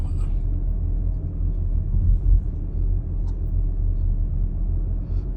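Car climbing the Kolob Canyon scenic drive in Zion National Park, a steady low engine and road rumble heard from inside the cabin, with no talk.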